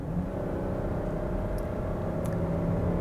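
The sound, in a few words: 2022 Kia Carnival 3.5-liter V6 engine accelerating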